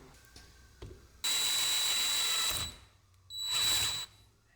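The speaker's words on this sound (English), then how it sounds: "I'm just gonna drill it out the same size as the inner of the threads all the way through." A power drill bores out threads on an E46 BMW wagon in two bursts, a long steady whine followed by a shorter one, close and loud with quiet gaps and a few small clicks between.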